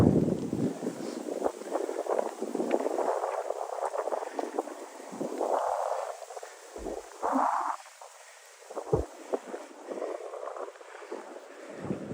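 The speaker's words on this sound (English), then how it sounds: "There's that wind." Winter wind at the New York Botanical Garden in snow, gusting and buffeting against the microphone with a low rumble that rises and dips in uneven surges.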